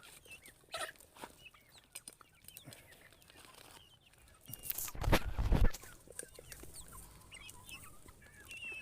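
Pet chickens clucking nearby in a yard, scattered soft clucks building to a louder burst of agitated calls and rustling before settling again.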